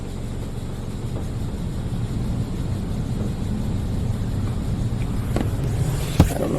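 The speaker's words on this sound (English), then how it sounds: "I get to be reminded of how loud the high pressure cycle is" A Mark VII AquaJet GT-700 rollover car wash runs its high-pressure cycle with turbo nozzles, a loud continuous roaring hiss of water jets and pump, with a sharp knock near the end.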